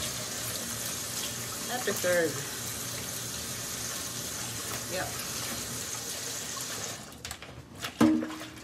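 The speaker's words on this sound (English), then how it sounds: "now I can wash my hands and get started" Steady running tap water pours into a sink as hands are washed, with a few splashy bursts and soft clatters toward the end and a short spoken word.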